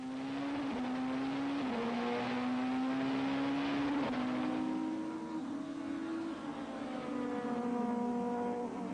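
A race car's engine drones steadily through a sluggish, bogged-down start, its pitch wavering and climbing only slowly amid loud, continuous motor noise with other cars around.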